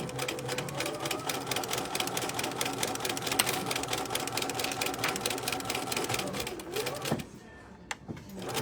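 A sewing machine stitches steadily along a zipper on a vinyl zippered pouch, with a fast, even mechanical rattle running for about seven seconds before it stops abruptly, then a brief faint clunk.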